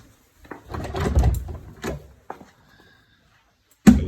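A door at the back of an assembly hall opens with a close, rumbling scrape and creak, followed by a sharp knock or latch thud.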